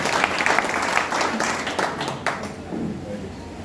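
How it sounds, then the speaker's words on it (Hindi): Loud, dense audience clapping at a public gathering in Madhepura, a sustained burst of applause from a crowd that thins out toward the end. "चलिए एक बार सर के लिए जो है जोरदार ताली बजाएं।"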